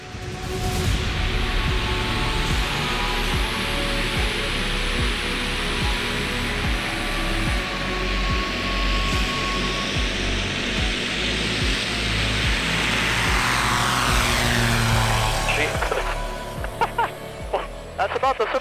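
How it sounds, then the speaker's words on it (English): A KFA Explorer (Zonsen CA-500) bush plane roars loud and steady through a short takeoff roll from a small field amid crops, its engine drone constant with wind rush before easing slightly near the end. "let's see how short we can take off here in this little field in the middle of the crop"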